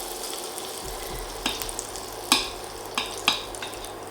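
A little butter sizzles softly in a small frying pan while making mashed-potato patties, a low steady hiss broken by a few sharp clacks and scrapes of a utensil against the pan.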